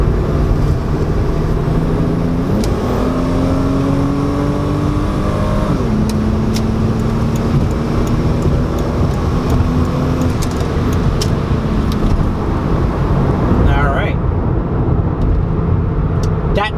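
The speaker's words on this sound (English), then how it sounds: "what I'll do is I'll give it a little bit of gas here" Toyota Supra twin-turbo with automatic gearbox pulling hard from inside the cabin, engine tone climbing then dropping sharply at a quick upshift and climbing again, loud and continuous, with a voice speaking over it.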